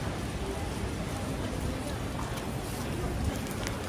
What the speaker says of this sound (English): Look at the crazy rainy night here on a rainy Tuesday.